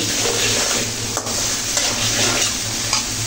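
Potatoes and vegetables fry in a pan for a taki fish curry, giving a steady, loud sizzle with occasional scraping stirs throughout.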